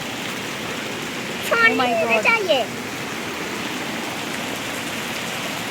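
Torrential rain pouring down steadily as a dense, hissing wash of water in a monsoon downpour, with a woman briefly exclaiming over it partway through.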